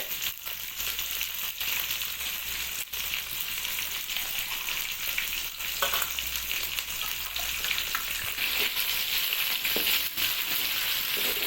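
Tomatoes added to a hot pan while cooking a soybean dish sizzle and fry steadily, a dense continuous crackle close by with occasional stirring knocks and no talking.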